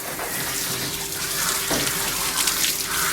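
Tap water runs steadily into a basin while a terrier's face is washed during grooming, a close, continuous splashing stream with small shifts in flow and no talk.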